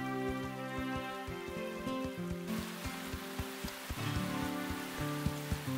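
Cartoon rain patters and hisses steadily outdoors in the animated horse series Horseland, heard softly under a gentle musical score with no speech.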